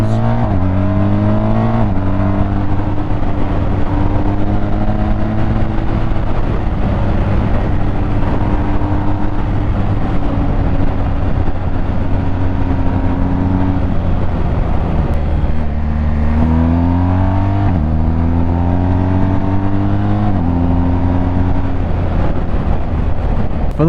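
A BMW R1250 GS motorcycle engine accelerating hard, loud and close, with repeated rising revs broken by quick gear shifts over about twenty seconds, no voices.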